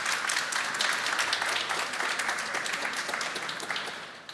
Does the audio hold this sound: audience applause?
yes